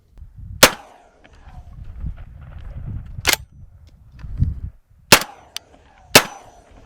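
Four loud, sharp shotgun blasts firing slugs from heavy-recoiling guns, spaced irregularly a second or more apart, each with a short ringing decay in an indoor range room, with low murmuring and shuffling between shots.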